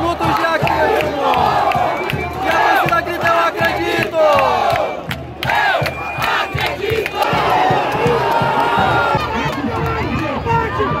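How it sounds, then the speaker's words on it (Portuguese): A football stadium crowd at a Série D match chants and shouts in loud, rhythmic waves during stoppage time, dense massed voices filling the space, with a commentator speaking over them. "E a torcida grita é o acréscimo."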